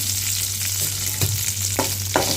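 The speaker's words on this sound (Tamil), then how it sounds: "சேர்த்துட்டு இந்த தாளிதழ் நல்லா வதங்கட்டும் பாருங்கள்" Dried red chillies and curry leaves fry in tempering oil with a loud close sizzle and crackle, and a spatula scrapes the pan a few times.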